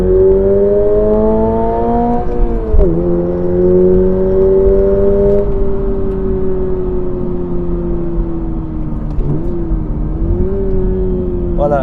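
A Toyota GR86 sports car engine with a sound generator drones and shifts pitch with a synthetic, enhanced tone, rising and falling through gear changes at close range.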